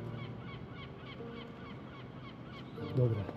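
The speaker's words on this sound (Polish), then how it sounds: "Słychać mewy." Gulls call around an abandoned prison in Portugal, a few harsh honking cries rising near the end over a steady background of outdoor ambience.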